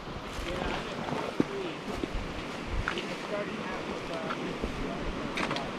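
Red Creek rushes steadily beside a small campsite at Dolly Sods, about a quarter mile up from the Forks, a continuous close wash of flowing water with no break.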